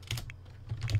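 Keyboard typing by a Sim in The Sims 4: two quick bursts of soft clicky keystrokes, close and clear over a low steady game hum, with a quiet gap between them.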